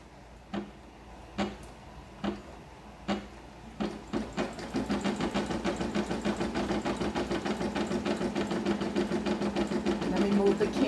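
A home embroidery machine starts with a few separate mechanical clicks, then settles into a fast, steady, rhythmic stitching chatter that grows slightly louder. It sounds close to the microphone, with no talk over it.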